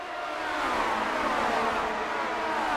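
Race car accelerating on lap 38 at Daytona International Speedway in the Grand Prix Legends racing game: a steady, loud mid-pitched engine roar held at a constant level for the whole clip, with no voices over it.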